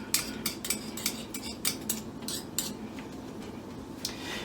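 A metal tablespoon scrapes and clinks against a container while scooping ground ginger paste, producing a series of light, irregular taps and chinks at close range, with no talking.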